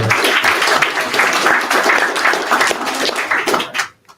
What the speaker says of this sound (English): One more round of applause for everyone so far.